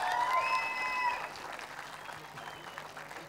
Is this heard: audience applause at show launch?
yes